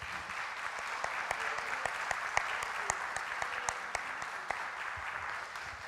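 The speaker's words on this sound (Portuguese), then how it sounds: "Vamos aplaudir ao Senhor mais uma vez?" A church congregation applauds during a Sunday evening service, a steady, dense wash of many hands clapping at moderate distance, continuous throughout with a few sharper claps standing out.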